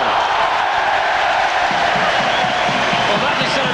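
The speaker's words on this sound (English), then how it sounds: "that is celebrated as much as a try would be by the crowd and by the players" Rugby league crowd at a 2009 Huddersfield Giants versus Catalans playoff match, a loud sustained roar of cheering for a knock-on call, with a commentator talking over it.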